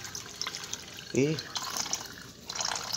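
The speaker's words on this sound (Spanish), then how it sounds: "Y para enjuagarlo, ya lo meto al agua." A gas stove burner is dunked and rinsed in water, with soft sloshing and dripping around one short spoken word.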